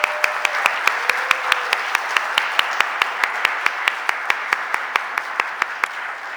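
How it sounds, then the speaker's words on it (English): A large council chamber audience applauds visiting charter school students seated in the balcony, a steady even round of clapping with sharp individual claps standing out, sustained for several seconds. "Let's give them a real big round of applause."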